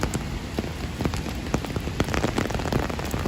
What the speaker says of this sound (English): We're here in New York, the big rainstorm.